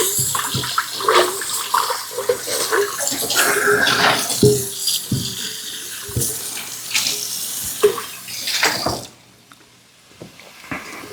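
Tap water runs and splashes while a cooking pot is washed out in a home kitchen, a close, fairly loud gushing with irregular sloshes and knocks before the flow cuts off near the end.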